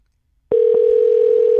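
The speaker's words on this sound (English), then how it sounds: "dialing up Pat Fontaine as we speak" A steady, loud phone dial tone starts abruptly after half a second of silence and holds unbroken as an outgoing podcast call to Pat Fontaine is placed.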